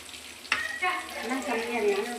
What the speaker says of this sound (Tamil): கொஞ்சம் நான் பொரிச்சு தான் எடுக்கிறேன் நான் எடுக்கிறேன்